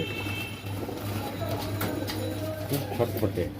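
A restless fantail pigeon with a fanned, peacock-like tail coos in low repeated notes while fluttering in a handler's grip at a pigeon farm, with people talking nearby.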